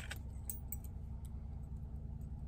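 Keys being worked off a moldy keyring give a few faint, scattered metallic clinks and jangles over a low steady background rumble, with no one talking.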